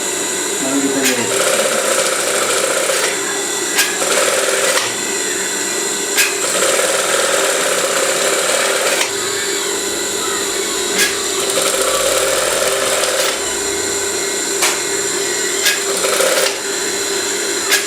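A sewing machine stitches a folded hem on leftover batik fabric for a combination batik garment, running in steady bursts of whirring with short pauses between them, close and fairly loud, with a few light handling sounds and no talk.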